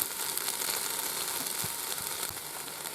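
Olive oil sizzles steadily in a Ninja Foodi pot on sear mode, a constant bright hiss with a few soft taps near the end, no talking.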